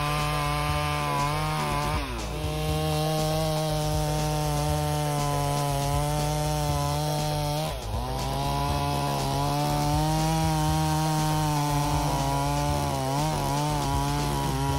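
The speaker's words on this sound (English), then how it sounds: "The 30m tall oak tree was cut down by a worker using a steel chainsaw" A steel chainsaw cuts a 30 m tall withered oak tree in a castle garden. The engine holds a loud, steady buzzing drone with brief dips in pitch as the chain bites into the wood, and no one speaks.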